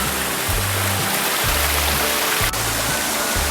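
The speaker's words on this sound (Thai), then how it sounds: "อันนี้นะครับเราจะพิชิตน้ำตกบัวตองกันนะครับ" Bua Tong waterfall near Mae Taeng, Chiang Mai, roars in a steady, dense wash of rushing water. A low rumbling sound pulses in and out underneath it.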